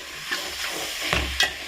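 Masala stirred in a frying pan, with soft sizzling and a few scraping spoon strokes, close and fairly quiet, no voices.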